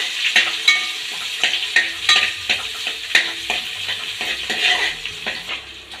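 Chopped garlic and curry leaves sauté in oil for Kerala mango pickle, a close crackling sizzle broken by repeated spoon scrapes and clinks against the pan.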